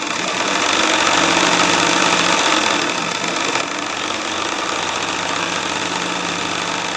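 An embroidery sewing machine stitches in a steady, fast mechanical buzz and rattle, loud and continuous, easing slightly in pitch partway through, with no talk.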